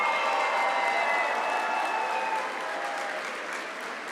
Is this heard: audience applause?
yes